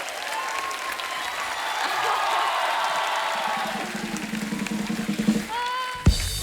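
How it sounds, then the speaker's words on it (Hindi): Studio audience applause for a Circus star cast on The Kapil Sharma Show, steady broad clapping from a large crowd throughout, with music and a few whoops layered in and a sharp hit near the end. "एक बार जोरदार तालियां हो जाए हमारी सर्कस की स्टार कास्ट के लिए।"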